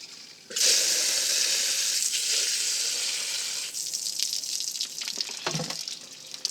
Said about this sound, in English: Just put a bit of water in there.